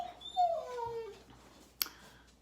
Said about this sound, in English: My dog Chewy would like to eat my plum. Do you hear him whining?